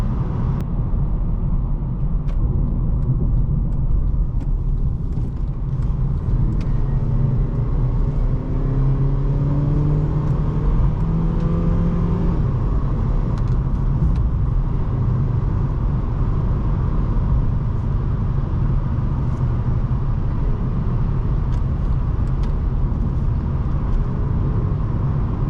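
A 2007 Honda Civic LX cruises on the freeway, heard from inside the cabin as a constant loud low drone of engine, road and wind noise with faint shifting engine tones and no talking.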